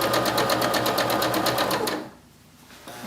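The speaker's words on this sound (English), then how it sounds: "then just continue sewing along" Sewing machine running steadily as it chain-pieces patchwork squares, a fast even stitching rhythm close up for about two seconds, then stopping into near quiet before a faint restart.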